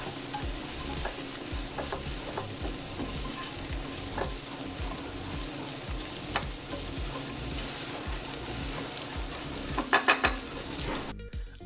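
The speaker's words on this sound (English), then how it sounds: "I like to stir them frequently. Do note that they will take a while to caramelize." Onions caramelizing in a frying pan give a steady, close sizzle while being stirred often, with scraping strokes throughout and a few brief utensil clinks near the end.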